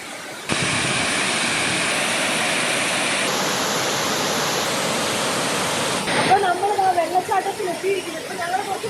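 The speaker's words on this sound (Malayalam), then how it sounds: "അത്യാവശ്യം സേഫ്റ്റി നോക്കിയിട്ട് ഇറങ്ങാൻ പറ്റിയ ഒരു വെള്ളച്ചാട്ടം" Water rushes down a hillside waterfall in Vagamon. A loud, steady hiss cuts in after a brief silence and holds before giving way to voices near the end.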